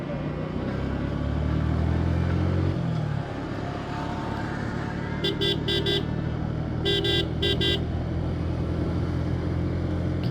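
A motorcycle horn honks in two short clusters of bursts over a steady roar of engine and road traffic.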